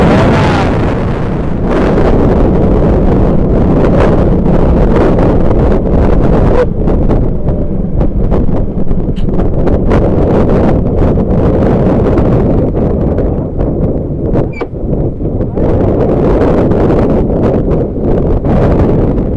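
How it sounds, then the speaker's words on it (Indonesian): Strong wind roars and buffets across the microphone at a fishing spot on high-wave water, a loud continuous rush with gusty surges throughout. "Anginnya kencang."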